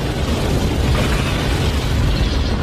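A loud explosion from the 1998 film Rush Hour, a dense sustained roar of blast and debris filling the whole stretch at full volume, with no speech.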